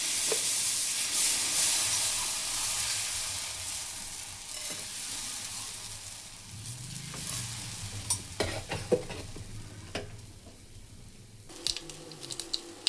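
Hot oil sizzling and crackling in a pan, with scattered sharp pops and spatters from mustard seeds spluttering, and occasional stirring scrapes, up close.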